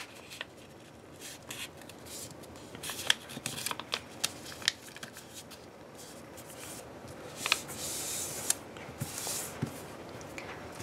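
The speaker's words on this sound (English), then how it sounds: "you're going to fold this bottom side here to this side over here" Paper being folded and creased by hand while making a swallow-style paper airplane, giving soft crinkles and sharp rustling snaps at irregular intervals, close and fairly quiet with no talking.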